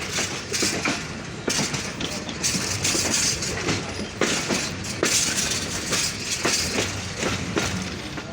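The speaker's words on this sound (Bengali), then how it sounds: "ধীর গতিতে কিন্তু আমরা পার্বতীপুর জংশন ছেড়ে দিলাম 41 আপ কাঞ্চন কমিউটার ট্রেনটি নিয়ে।" The 41 Up Kanchan Commuter train pulls slowly out of Parbatipur Junction, heard from on board as a continuous rumble with a rhythmic clickety-clack of wheels over rail joints.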